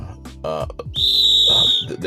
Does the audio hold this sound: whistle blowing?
yes